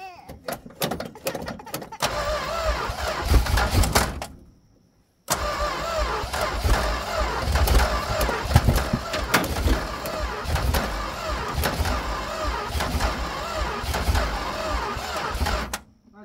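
A 1966 Plymouth Fury with a 383 engine cranks and fires, then runs loud and rough close by; a brief silence near the start breaks the cranking before it settles into a steady, heavy running rumble.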